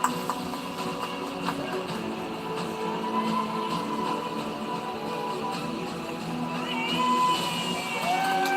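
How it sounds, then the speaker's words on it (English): Crowd applause and cheering at the trading card game finals of the 2023 Pokémon World Championships in Yokohama, a big hall full of steady clapping with scattered whoops that swell toward the end. "And a big round of applause now."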